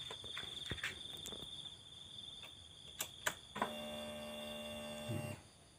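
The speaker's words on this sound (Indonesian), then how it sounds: "suara pulpamnya juga masih dengung" A Honda Vario 125 motorcycle fuel pump with an ignition fault: a steady electrical hum with a high whine persists, a few sharp clicks pop through, then a brighter tonal buzz sounds for a couple of seconds before cutting off.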